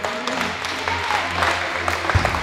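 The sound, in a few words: audience applause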